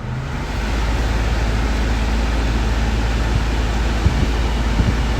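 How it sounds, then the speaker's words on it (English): A 2016 Mitsubishi L200 2.4 DI-D pickup with automatic gearbox has its air conditioning switched on, bringing a loud, steady blowing hiss over the low engine hum that rises after a brief quieter start. "Let's try the air conditioning."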